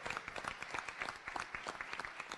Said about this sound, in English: Please, a round of applause for Peter Phipps, who organized this evening